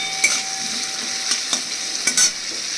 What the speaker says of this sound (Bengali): সেই টমেটোর কুচিটা দিয়ে দিচ্ছি।